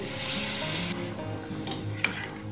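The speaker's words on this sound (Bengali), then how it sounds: "এই যে এবার জল দিয়ে দিব, গরম জল দিচ্ছি।" Hot water poured into a pan of chicken fried until the oil separates, giving a loud steady hiss and sizzle that eases off, with a brief utensil clink near the end.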